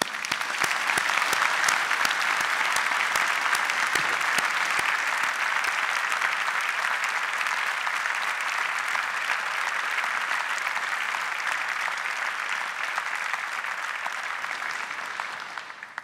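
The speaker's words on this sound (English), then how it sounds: "we and you should take this opportunity to applaud them in recognition of their achievements" Sustained applause fills a university graduation ceremony as the audience claps for the graduates, a dense, even roar of many hands holding steady and close before thinning at the very end.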